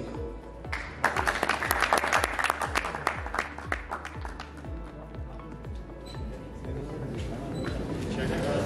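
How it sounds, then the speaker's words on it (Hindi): Audience clapping at a shirt launching ceremony for Markhor Super League season 2, a burst of applause that swells and then tapers off while a host talks over a PA. "जिशान नादिर साहब के लिए भी ताली होनी चाहिए।"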